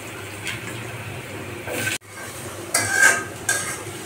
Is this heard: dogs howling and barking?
no